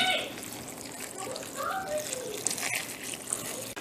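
Water pours into a pot of medieval pottage with summer squash and chicken bouillon, a gushing, splashing stream running for several seconds at close range, with light clinks near the end.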